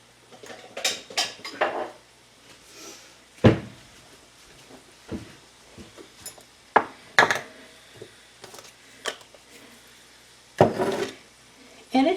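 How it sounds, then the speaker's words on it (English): Clinks and knocks of dishes, cutlery and a cupboard door in a home kitchen while someone fetches a small dish, scattered irregular clatters, fairly close, with soft background noise and no talk. "I'm going to get a little dish to put them in when they're done."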